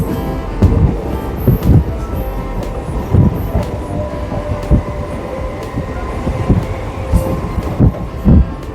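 A Howrah to Baruipara local train runs steadily, with a continuous low rumble of the carriages and regular clacking wheel beats over rail joints, close and loud throughout.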